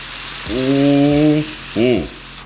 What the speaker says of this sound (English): next we're gonna add our beef broth. This is about 3 cups of beef broth